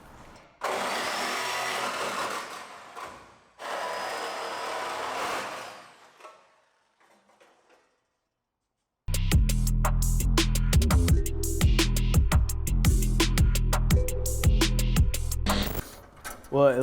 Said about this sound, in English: I follow that with the Sawzall then.